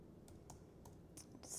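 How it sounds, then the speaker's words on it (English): Several soft, quick clicks of typing on a computer keyboard come from close by, faint and sparse. "Just typing some things in here."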